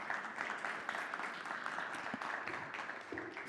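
Audience applause at a cybersecurity event on digital identities, a dense, steady patter of many hands clapping at moderate level throughout.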